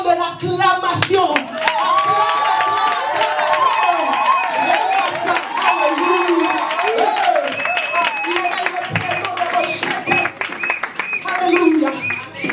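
A church congregation at a worship service acclaims and claps, rhythmic hand claps blended with voices crying out and what sounds like singing, loud and continuous throughout.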